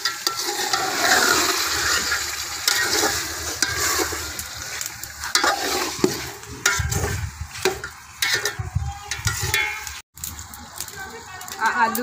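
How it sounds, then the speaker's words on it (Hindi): Spiced meat being stirred in a pot after toasted masala goes in, with scraping stirs over a steady frying sizzle; a voice talks at moments through the busy kitchen noise. "हुण मैं गोश्त नूं चंगी तरह हिला लैंदी आ, ताकि मसाला गोश्त नूं मिक्स हो जाए"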